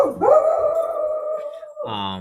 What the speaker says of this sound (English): that's my dog. It's going crazy.